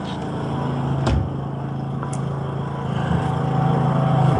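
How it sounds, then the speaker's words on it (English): A passing tractor engine rumbles steadily close by, a low droning hum with a couple of sharp clicks, no talking. "Sorry about the noise, but the tractor should be gone shortly."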